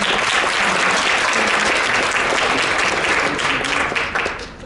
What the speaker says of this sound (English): get a round of applause for all our speakers again